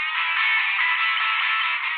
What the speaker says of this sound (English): traditional hearing aids sound like this